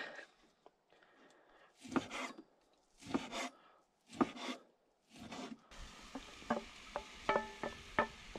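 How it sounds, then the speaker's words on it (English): A knife slicing seared, rare steak on a cutting board at an outdoor camp cooking setup, a run of soft rasping strokes followed by quicker tapping cuts, close and fairly quiet with no voices. "Just gonna slice that up and we'll toss it into our stir fry."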